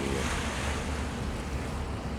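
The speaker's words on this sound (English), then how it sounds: "we actually got some waves coming in from the..." Waves wash in continuously at the Old Port waterfront in Montreal at night, a broad steady rush of water with wind noise over the microphone, close and fairly loud, with no voices.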